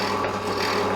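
A drill bit turns in pre-drilled holes in wood for a handle, giving a steady close rasping and rubbing hum for about a second with no talking.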